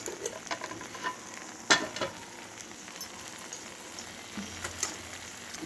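Carrots and beans sautéing in a pan with capsicum, a faint steady sizzle with scattered light stirring scrapes and one sharper clatter, close and quiet with no talk.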